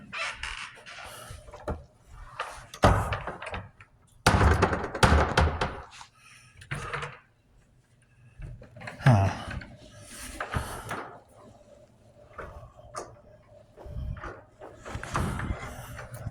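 A door is worked open and shut several times, giving repeated wooden knocks, rattles and creaks in scattered loud bursts with quiet gaps between them.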